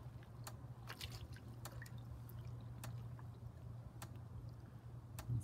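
Water drips steadily from the overflow tube of a backyard duck pool, producing scattered sharp plinks over a constant low hum, fairly close and moderately quiet.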